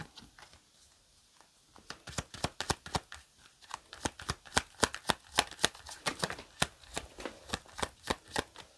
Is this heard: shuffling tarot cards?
yes